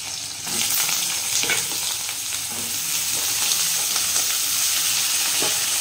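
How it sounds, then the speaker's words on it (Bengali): Small-cut potato and pointed gourd frying in a wok, giving a steady, loud sizzle with occasional stirring scrapes throughout, no voices. "আলু আর পটল ছোটো ছোটো করে কেটে নিয়েছি, একটু ভাজা ভাজা করবো।"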